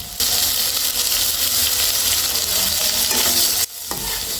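Boiled radish greens are stirred with spices in a hot pan, giving a loud, close, continuous sizzle with scraping and rustling from the stirring, which cuts off abruptly near the end.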